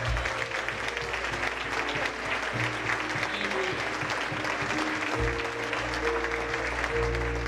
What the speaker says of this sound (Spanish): Dense un aplauso porque cantan muy bien